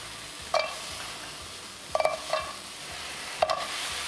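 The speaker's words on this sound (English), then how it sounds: "It's a non-stick skillet, and I'm just going to put in some assorted frozen vegetables." Assorted frozen vegetables are stirred in a non-stick skillet, a soft steady sizzle broken by a few sharp scrapes and clacks of the utensil against the pan.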